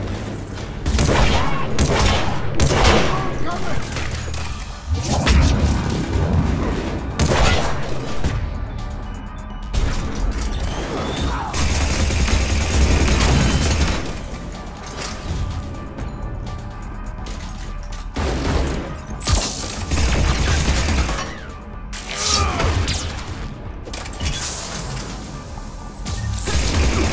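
A firefight aboard a starship's command deck in the Mass Effect 3 video game, with rapid bursts of loud gunfire, crashes and impacts repeating irregularly through the whole stretch.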